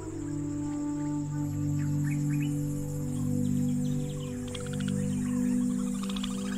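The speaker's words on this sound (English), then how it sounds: "These waterholes attract a huge variety of birds." Many birds call and chirp around waterholes and reservoirs in Sri Lanka, with overlapping tweets and short rapid trills over a steady buzzing hum of insects, moderately loud and continuous throughout.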